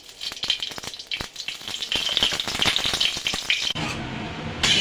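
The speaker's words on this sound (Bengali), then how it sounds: "কড়াইতে এবার দিয়ে দেব ঘি, দিয়ে দেব আমি সেমাইটা ভাজার জন্য" Ghee heats in a hot karai before vermicelli is fried in it, making a close, continuous crackling sizzle with dense small pops and a brief shift in tone near the end.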